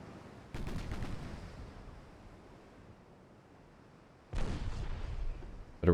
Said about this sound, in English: we're already scoring hits with the 6-inch guns